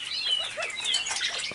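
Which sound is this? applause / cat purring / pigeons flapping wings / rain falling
pigeons flapping wings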